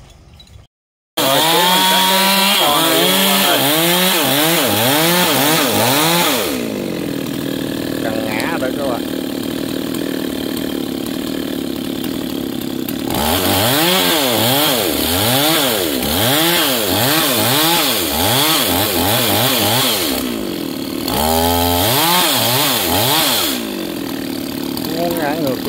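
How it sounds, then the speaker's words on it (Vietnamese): Chainsaw cutting the stump of a large xà cừ tree, loud and close, with repeated revving surges as the saw bites and eases off across the clip. "tí chú mình cưa gốc mình quay tiếp cho các bạn cùng xem nha"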